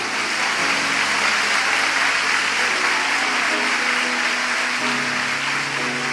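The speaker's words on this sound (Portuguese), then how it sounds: "Você pode aplaudir o Senhor por isso?" A church congregation bursts into sustained applause, a dense, even wash of many hands clapping at steady loudness with a low tone humming underneath.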